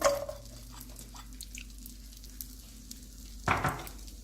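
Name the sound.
dry fruits and almonds roasting in hot butter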